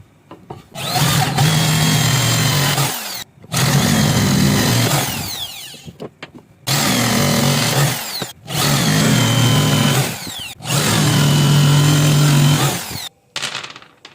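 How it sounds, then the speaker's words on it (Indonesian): Power drill working on wood, followed by sanding, in five long bursts of several seconds each separated by short silent pauses, loud and close with no talking. "Setelah kita bor dan kita amplas sedikit-sedikit untuk bagian sininya."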